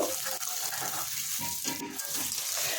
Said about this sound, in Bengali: এখানে আমি বেটে রাখা আদা রসুন পেস্টটা দিয়ে দিলাম। এটাও হালকা আমি তেলের মধ্যে ভেজে নেব।